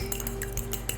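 A fork clinking against a bowl while whisking an egg for egg wash, a quick run of light, rapid metallic taps, faint and close.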